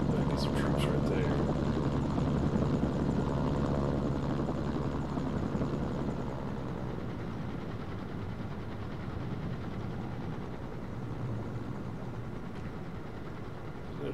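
A helicopter in Mercenaries: Playground of Destruction gives off a continuous droning rotor whir. Near the start a few sharp clicks cut in, then the drone goes on steadily at moderate loudness.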